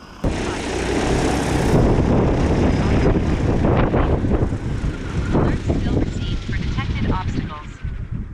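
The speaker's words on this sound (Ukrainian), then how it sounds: "Більший дрон, більше пилюки роздуває." A DJI Agras T40 agricultural drone flies nearby blowing up dust, its loud, steady rotor roar mixed with wind buffeting on the microphone, continuous throughout.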